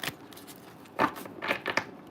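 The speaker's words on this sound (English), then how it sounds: "I'm shuffling for you right now, okay?" Tarot cards being shuffled by hand, a few soft papery riffles and slaps in close, quiet bursts with no talk over them.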